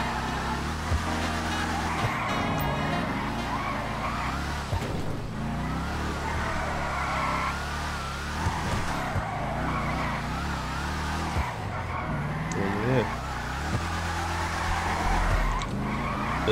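GTA 5 car drifting around an arena lot, with repeated tire squeals and skids over revving engine noise, loud and continuous, the squeal pitch rising and falling across several slides.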